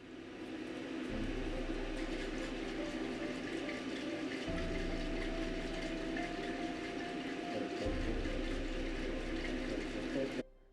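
Biodiesel mixture sloshing steadily as it is shaken hard inside a container, a dense continuous liquid churning with rhythmic surges, close and loud for the whole stretch.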